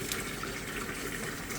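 Tap water gushes steadily into a bucket being filled for an aquarium water change, a constant close splashing rush with no voices.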